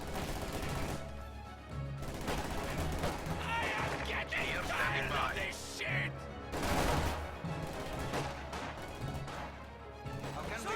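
MG42 machine gun fire in a video game battle comes in rattling bursts mixed with crashes and other gunfire, partly under a commentator's voice.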